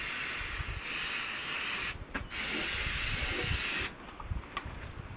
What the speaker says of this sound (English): Give them a shot of the brake clean.